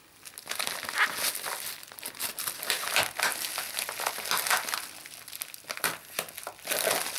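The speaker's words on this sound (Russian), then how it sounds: "Откроем пупырочку." Bubble wrap from a parcel from China is crinkled and handled up close, irregular crackly rustling bursts that rise and fall, with no talking.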